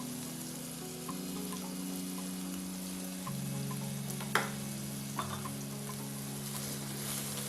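Shallot paste frying in oil in a pan with soya chunks, a steady moderate sizzle with a brief stirring clatter midway, close and alone without talk.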